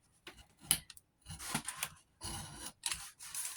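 A utility knife cuts through a scored craft wall for a miniature fairy house, giving short scraping, crunching bursts in a quiet room, several close strokes with brief pauses between them.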